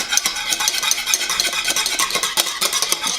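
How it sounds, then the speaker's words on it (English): A whisk scrapes steadily and rapidly through a mousse mixture in a pan, making a continuous, fairly loud rhythmic stirring scratch, heard alone for about three seconds. "I'm whisking it constantly because I don't want it to get clumpy."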